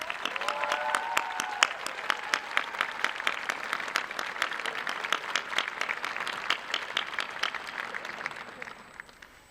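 A large crowd applauds graduating surgical technology, radiography, MRI and sonography students at a college pinning ceremony, with dense sustained clapping that starts strong, stays steady and fades slightly toward the end, while a few faint voices rise underneath.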